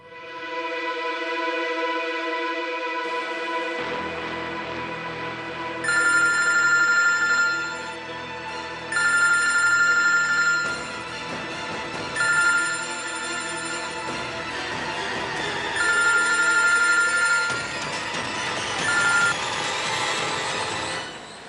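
A telephone rings in repeated bursts of bright electronic tones, with about five short rings spaced a few seconds apart over a sustained musical background, and no talking.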